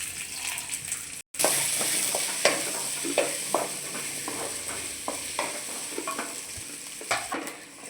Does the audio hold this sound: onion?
yes